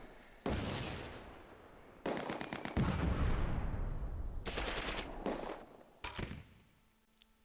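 Bursts of MG42 machine-gun and sniper fire in the WWII tactics game Close Combat II, Arnhem battle: several loud rapid volleys and single cracks spread across the clip, with brief pauses between them and no talk.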